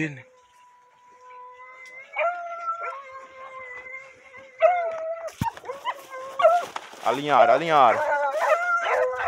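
A pack of hunting dogs on a fox hunt, howling, yipping and baying in overlapping, rising calls that grow louder and denser toward the end, while a man calls out briefly among them.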